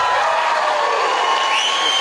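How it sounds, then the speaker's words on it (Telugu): A crowd at a gathering claps and cheers together, a loud, dense wash of hands and voices with scattered whoops, continuous across a short burst. "క్లాప్స్"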